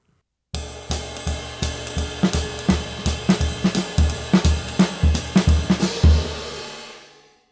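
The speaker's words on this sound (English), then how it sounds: "In general, I prefer a little bit more wide sound like this." Drum kit groove with a wide, looser hi-hat, the cymbals ringing with a slightly washy sizzle between steady kick and snare hits, played close and loud with no voices.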